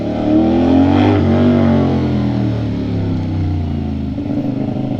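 A 450SR motorcycle engine runs loud and steady while riding, with a rising, revving tone early and a constant rushing drone close by, no voices.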